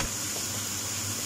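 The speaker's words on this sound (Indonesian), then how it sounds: "Ditumis hingga matang ya" Meat sautéing in hot oil in a pan, a steady dense sizzle and crackle filling the whole moment without pause, close and fairly loud.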